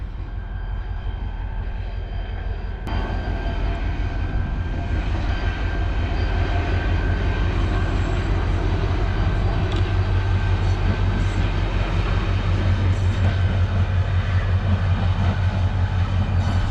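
A heavy GMU30 diesel locomotive rumbles past close by in Sindh's mountains, a deep steady engine drone with rising rattle and hum that builds and holds throughout.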